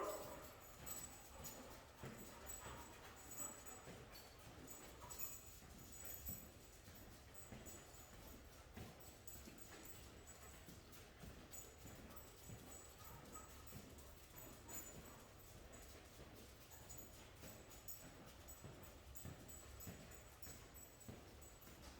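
Three dogs walked together on a leash outdoors, with faint whimpers and yips under steady footsteps and rustling, continuous low-level activity throughout.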